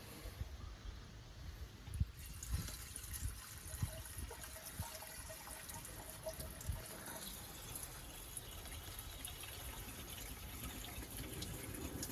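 Pink antifreeze water pouring and gushing steadily out the back of the 2.5L Mercruiser stern drive on a 1976 Starcraft boat during winterizing, a continuous liquid splash with an engine running underneath.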